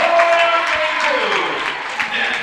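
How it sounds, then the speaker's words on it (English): A basketball crowd at a Bethel vs. Indiana University East game cheers and applauds loudly after a deep three-pointer by Nick Kindig, a sustained roar of clapping and shouting that holds steady throughout. "And the crowd goes wild"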